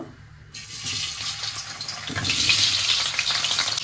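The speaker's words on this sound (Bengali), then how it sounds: "এবার এই আলুগুলো সিমে একটু নুন দিয়ে ভেজে নেব।" Boiled potatoes fry in a pan with a little salt over low heat, a steady soft sizzle that swells louder partway through, with faint clinks of a utensil.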